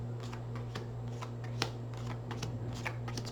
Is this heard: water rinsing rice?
no